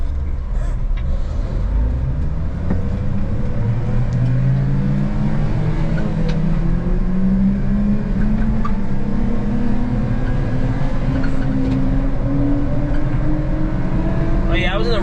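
Honda Acty kei dump truck accelerating hard on a top speed run, its small engine droning from inside the cab and climbing steadily in pitch over the whole stretch, loud and continuous, with a voice speaking intermittently over it.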